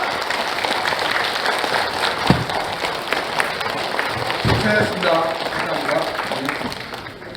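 A standing audience applauds at the founding convention of a nationwide association of bereaved families of the Yeosu-Suncheon uprising, a steady crowd wash of clapping lasting several seconds with a brief spoken word near the end.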